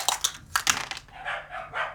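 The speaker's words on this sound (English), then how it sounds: "just letting the dogs die down there" Several dogs bark close by in quick, loud bursts, then trail off into softer whines and grumbles. Someone has come to the door during a tabletop wargame session.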